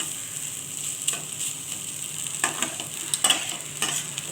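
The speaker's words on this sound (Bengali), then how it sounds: "একটু জোর কমিয়ে কমিয়ে ভাজতে হয় এটা।" Fish roe bhujia frying in a pan over reduced heat, a soft continuous sizzle with a few louder stirring scrapes and clinks against the pan, no talking.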